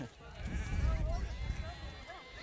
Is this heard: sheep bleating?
yes